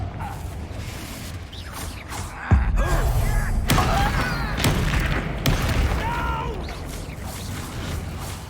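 A Confringo fire spell blasts in Hogwarts Legacy, a sudden loud burst followed by crackling, whooshing magical effects and several sharp impacts over a busy combat soundscape.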